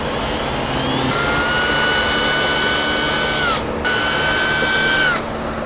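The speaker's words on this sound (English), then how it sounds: "Take a 5/16 drill bit and go ahead and drill out your holes." A power drill with a 5/16 bit whines loudly at a steady high pitch, drilling holes in a bracket, running in two long bursts with a brief pause between, winding down after each.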